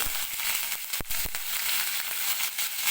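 Curry leaves crackle and sizzle sharply in hot oil over cumin, a bright steady frying hiss with a few loud pops and spits.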